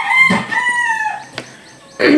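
A rooster crows a long, drawn-out call close by, with rustling and a brief clucking burst at the end.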